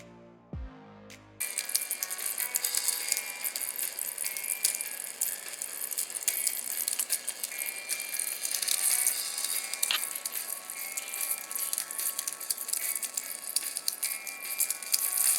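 Electric plasma discharge crackling steadily for about fifteen seconds, a dense continuous buzzing rattle with bright hiss, following a brief quieter lead-in, with no voices.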